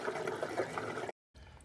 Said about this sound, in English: Pull the plugs from both the front and the back of the Pentair pump to release the